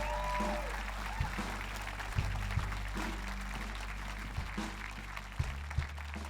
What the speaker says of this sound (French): Voulez-vous vous lever? Et voulez-vous donner une ovation à celui qui dit